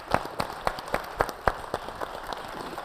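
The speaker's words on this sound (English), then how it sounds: "can we give our panel a big round of applause as well?" Audience clapping for a panel at a regional public safety discussion: a faint, sparse round of distinct claps at a steady pace, thinning toward the end, with no talk over it.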